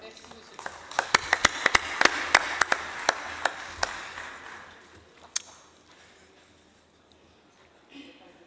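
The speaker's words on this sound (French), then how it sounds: "Je vous prie d'applaudir, Madame le Ministre Mergam" Sparse applause from a small number of people at a United Nations Environment Assembly session, about a dozen distinct sharp claps standing out over a faint murmur, then fading to near quiet with a brief knock near the end.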